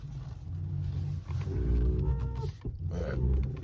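A 2024 Tesla Model 3 Performance parked on hold in a garage gives off a steady low hum, with faint tonal whine layers drifting over a continuous rumble, dipping briefly before resuming.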